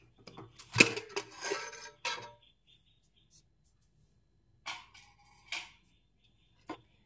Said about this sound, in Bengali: এবার প্রেসার কুকারের ঢাকনাটা খুলে নেব।